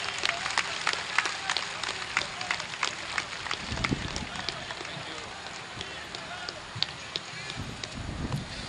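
An audience at a Pakistan Peoples Party gathering claps to welcome chairman Bilawal Bhutto Zardari to the stage. The applause is sustained and dense, with crowd noise and voices mixed in.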